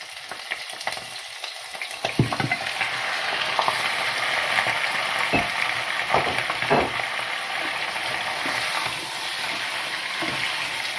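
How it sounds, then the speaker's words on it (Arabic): Onion and lamb meat frying in hot oil give a loud, steady, close sizzle throughout, broken by a few scrapes and knocks of stirring. "دونك باش نحطوا البصل اللي يتقلى ونحطوا معاه اللحم"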